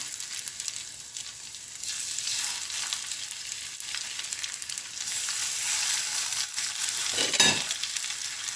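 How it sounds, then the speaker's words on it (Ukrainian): Hot onion sandwiches on baguette, coated in egg and flour, fry onion-side down in a pan with a continuous close sizzle, steady throughout, with a few faint scrapes and no voices. "жаримо всі інші бутерброди. Цибулею вниз і легенько притискаємо."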